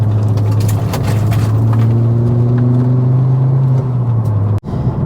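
Mk2 Ford Focus ST225 with a stage 1 tune, loud, close engine drone and exhaust rumble holding steady under load while driving, with rising tone shifts and a brief sharp drop near the end.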